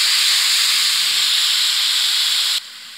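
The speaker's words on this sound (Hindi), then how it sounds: "अब इसमें डालेंगे हम टमाटर का पेस्ट।" Ground tomato paste is poured into a hot pan while cooking lobia, setting off a loud, steady, close hiss of sizzling that suddenly drops to a quieter sizzle near the end.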